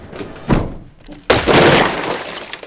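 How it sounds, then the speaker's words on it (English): The glass back window of a truck cap camper shatters: a sharp crack at about half a second, then a loud burst of breaking glass with bits scattering and settling. "I ended up smashing that back window. It shattered into bits."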